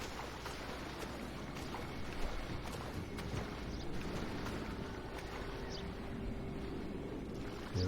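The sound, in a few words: boat engine on rough water in GTA V video game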